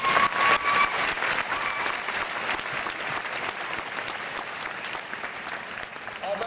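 An audience applauds at a 2001 senior high school graduation ceremony, a dense, loud wash of clapping that holds steady for several seconds, with no one speaking.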